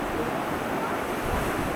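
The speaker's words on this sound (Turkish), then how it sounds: "Bu yoldan yine deniz kenarına vardık." Sea surf washes steadily against the shore at Busan, a continuous broadband roar with wind noise on the microphone, no distinct breaking rhythm and no talk.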